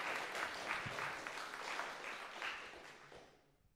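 Audience applause at a Tau Beta Sigma women-in-music speaker event: dense, steady clapping from a crowd that holds for a few seconds, then tapers and fades out.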